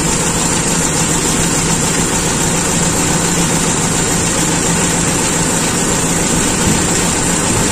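A Toyota Kijang Super carburetor engine running with raised RPM while still cold after an air bleeder modification, a loud, steady, dense drone filling the whole clip with no pauses or talk.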